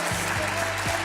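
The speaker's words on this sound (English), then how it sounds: "How about a big round of applause for the mayor of Mesa, Mr. John Giles?" An audience claps for the mayor of Mesa, John Giles, in a brief burst of dense, steady applause at a moderate distance, with no talking.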